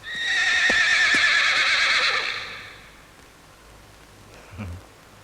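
A horse at a hitching post lets out one long, loud whinny lasting about two seconds, then a quieter stretch with a faint hoof knock near the end.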